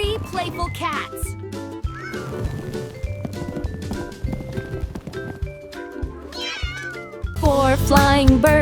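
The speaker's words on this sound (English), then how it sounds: "3 playful cats." Cartoon cat meows in a children's counting song, several bright, clear meows scattered over bouncy music with singing, ending in a louder burst of sound.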